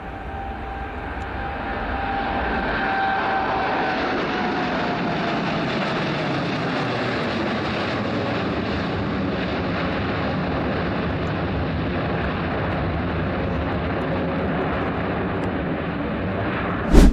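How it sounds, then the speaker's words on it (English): An experimental Boeing 777X jet climbs steeply on takeoff at Farnborough Airport, a loud sustained engine roar that swells and holds as the aircraft passes, with no voices. "This experimental jet shows off its insane power with a steep climb at Farnborough Airport."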